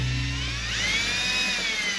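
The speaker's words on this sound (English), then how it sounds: "Trick to drilling through metal is to go slow and push hard." A power drill whines steadily at close range while boring a pilot hole through the metal side of a van, its pitch shifting slightly as it bites, alone without talk.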